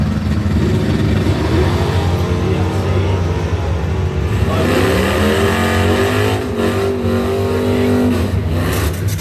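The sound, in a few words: Chevrolet Camaro drag racing launch in right lane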